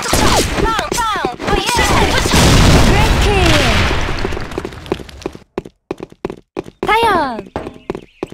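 A grenade is thrown and bursts in the online shooter Sudden Attack, a loud booming blast with gunfire under game voice lines, followed by sparse sharp shots and another voice callout.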